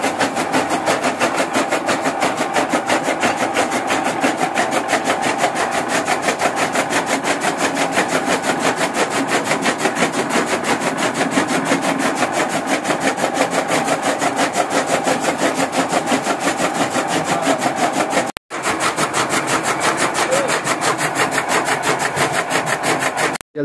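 A rasp files quickly back and forth across wooden strips in steady, rapid strokes, loud and close, with one brief pause near the end and no talk.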